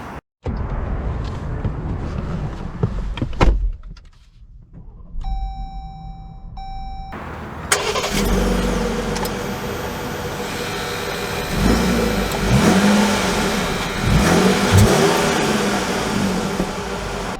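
A 2022 Jeep Grand Cherokee Trailhawk cabin goes quiet, then a few chimes sound before the engine starts. The engine settles into a steady hum as the vehicle pulls away and accelerates, with no talking.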